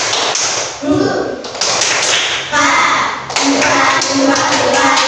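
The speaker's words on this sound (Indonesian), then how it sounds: "Tepuk semangat Velocity" A classroom of students performs a rhythmic cheer clap together, with bursts of sharp taps and thumps in a group pattern, mixed with voices and chatter throughout.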